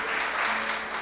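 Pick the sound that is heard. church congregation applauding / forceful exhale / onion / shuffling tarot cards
church congregation applauding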